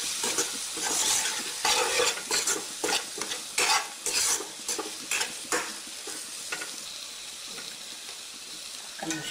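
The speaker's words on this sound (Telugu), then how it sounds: "మనం ఉప్పు పసుపు వేసి ఉడికించిన రొయ్యలు వేసి బాగా కలిపి" Boiled prawns being stirred with salt and turmeric into a sorrel (gongura) curry in a pan, a spoon scraping in repeated uneven strokes over a steady soft sizzle, close and fairly loud with no talking.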